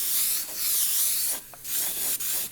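Airbrush spraying paint onto a dragon artwork, a steady close hiss in short bursts with brief pauses between passes.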